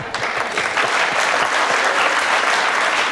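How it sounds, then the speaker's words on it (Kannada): An audience at a televised courtroom-style interview show applauds steadily, a dense, continuous wash of clapping that holds throughout without a break. "ನಾವು ಇಲ್ಲಿಂದ ಶುರು ಮಾಡಿದ್ರೆ ಚಪ್ಪಾಳೆ ಹೊಡಿತಾರೆ"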